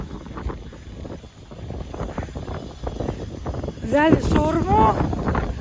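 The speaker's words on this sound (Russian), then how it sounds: "какой ветер!" Strong seaside wind buffets loudly and continuously, gusting under someone talking, with a brief high exclamation near the end.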